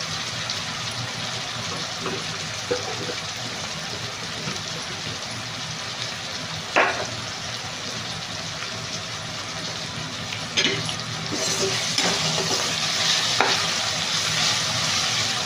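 Oil and ghee sizzle steadily in a pan, a continuous frying hiss with occasional soft stirring knocks and spatters, close and fairly loud throughout.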